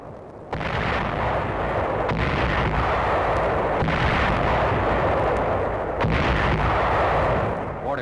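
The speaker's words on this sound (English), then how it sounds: "Fortified hill defenses withstand the intense artillery and naval gun shelling." Heavy artillery and naval guns shell fortified hill caves and ridges on Okinawa in 1945, a dense, continuous roar of blasts with several sharp reports standing out, loud and sustained throughout, with no voices heard.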